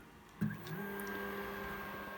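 An SLA resin 3D printer runs with a short mechanical clunk followed by a steady, even electric hum with a few faint whines, nearby in a quiet room.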